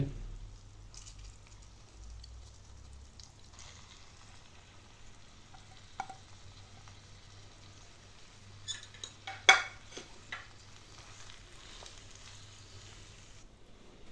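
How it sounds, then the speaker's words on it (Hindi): Maggi noodles are stirred into masala and vegetables in a pan: a low, steady frying hiss with occasional soft utensil scrapes and a brief cluster of louder clinks against the pan midway. "नूडल्स को मसाले और वेजिटेबल में अच्छी तरह मिक्स करते हैं।"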